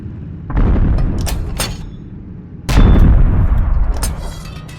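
Gunfire in the multiplayer game Steel Aces: two loud booming bursts, each a sharp onset followed by a sustained rumbling roar, close and alone.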